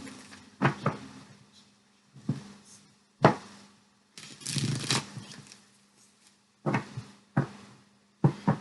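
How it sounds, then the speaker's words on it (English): A deck of tarot cards is shuffled by hand in irregular bursts, crisp riffles and soft slides close by, separated by brief quiet gaps and light handling noises. "Why do I shuffle 75 times in a video?"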